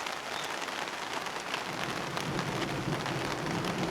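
Steady rain pours down outside a garden shed, a dense continuous hiss with close drops pattering on a surface, slightly heavier toward the end, with no talking.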